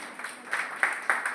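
Audience at a Hindi book launch ceremony applauding with light, sparse claps that come in small rhythmic bursts, fairly close and modest in volume.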